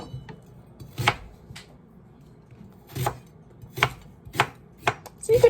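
A knife rough-chops fresh ginger on a cutting board in a kitchen, giving a handful of crisp, close knocks spaced irregularly, sparse at first and then quicker toward the end, with quiet gaps between.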